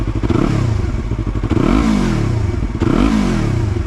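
A Yamaha R3 with an Akrapovič slip-on exhaust revs repeatedly with a deep, open exhaust note, rising and falling in loud pulls with a rough, burbling idle between them.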